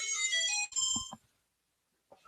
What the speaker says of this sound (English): I have a Zelda ringtone.